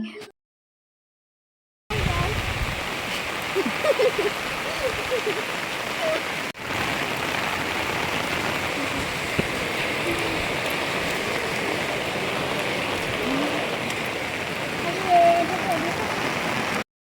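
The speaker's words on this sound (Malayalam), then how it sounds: "ഒടുക്കത്തെ മഴയായിരുന്നു എന്തോ ഒരു മഴയായിരുന്നു" Steady rain pours continuously, a dense wash of drops after a brief silent start, loud and unbroken with no talking.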